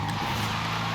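A 1985 Ford RS200 Evolution in Forza Horizon 5 revs hard while drifting, the engine holding a loud, high, steady pitch with a touch of tire squeal.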